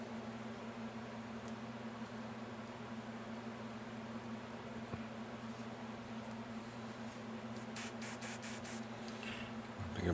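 A steady hissing spray with a mechanical hum underneath, running continuously, then a few quick rattling clicks near the end.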